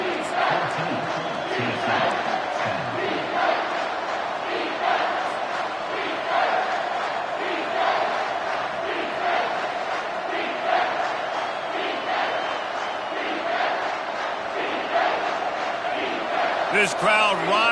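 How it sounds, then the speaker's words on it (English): A football stadium crowd roars and cheers loudly, swelling in waves throughout, with voices audible through the din. "This crowd rising up"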